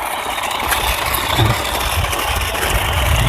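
A remote-controlled Mahindra Oja toy tractor drives slowly over grass and ground, giving a loud, steady, close motor whine and rumble that holds without a break.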